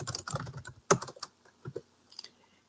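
Someone types on a computer keyboard to edit a grid, a short burst of close, crisp key clicks followed by a few scattered taps in a quiet room.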